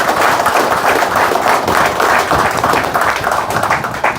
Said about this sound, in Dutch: Applaus Swaki man, applaus Swaki man.